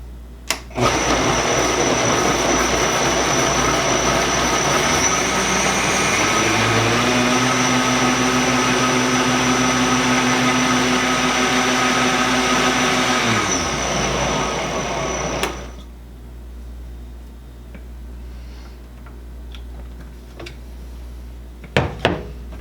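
A blender mixes a banana smoothie with a loud, continuous whirring roar whose pitch shifts partway through, then it stops abruptly and leaves near-quiet with a couple of clunks.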